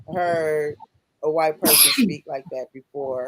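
A single sharp sneeze bursts out between stretches of a person talking, loud and close, with speech resuming right after.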